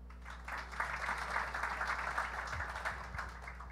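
At a live Kill Tony comedy show, a crowd breaks into brief, fairly quiet applause that rises after a moment and carries on steadily for a few seconds.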